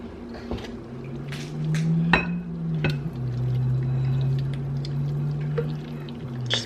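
A thick macaroni and cheese mixture slides from a pot into a baking dish, giving soft wet squishing and a low continuous pour, with a few sharp clinks of a utensil against cookware nearby.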